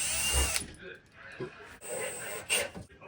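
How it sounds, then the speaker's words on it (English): A power drill whirs in two short bursts, close by, pre-drilling wood joints while fixing a wobbly handrail, separated by a quiet pause with faint knocking and handling noise. "Good to pre-drill these joints."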